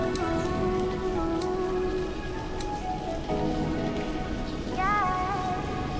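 Heavy rain pouring outdoors in flooded streets in the Philippines, a loud, constant wash of drops, with passing tonal engine or horn sounds over it.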